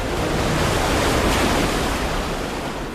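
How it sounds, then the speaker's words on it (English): Ocean waves break against Doolin Pier in a continuous loud roaring wash of surf, with gusting wind noise on the microphone and no voices. "Waves hit Doolin Pier at roughly 10 to 20 miles per hour."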